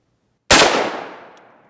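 A single Glock 17 pistol shot from a frozen cartridge, one sharp loud crack followed by a decaying echo, with no talking.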